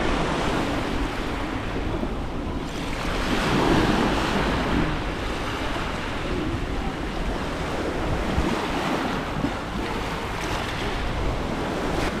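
Sea waves wash steadily onto the big pebbles of Brighton beach, a continuous roar mixed with gusty wind buffeting the microphone, with no voices.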